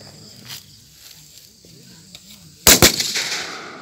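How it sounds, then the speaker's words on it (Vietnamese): Live-fire gunshots at a militia shooting range: a distant report early on, then two sharp, loud close cracks in quick succession with a decaying echo, over low background chatter. "các bạn có thể nghe được tiếng súng đạn."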